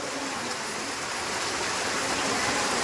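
Heavy morning rain pours steadily, a dense, even hiss of falling water that stays constant and close for the whole short stretch, with no voices.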